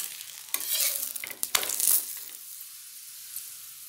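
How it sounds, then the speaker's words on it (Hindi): A mooli paratha roasting with oil on a hot griddle, a close sizzling hiss rising with scraping and turning, then dying down to a quiet low fizz. "दूसरी तरफ से भी इस पर तेल लगा कर इसे सेक लेंगे।"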